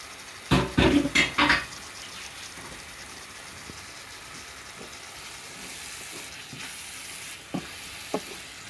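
Garlic frying in a pan for a Bangladeshi fish dish with red amaranth leaves. A few bursts of stirring scrapes near the start give way to a quiet, steady low sizzle, with a couple of faint clinks toward the end.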